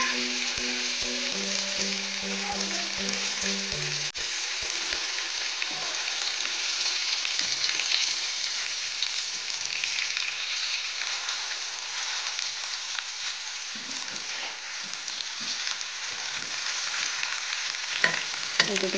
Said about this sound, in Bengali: তো বড়াগুলোকে আমি এবার উল্টিয়ে দিচ্ছি